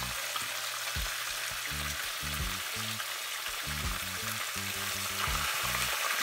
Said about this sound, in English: Now I'm gonna put tomatoes in here.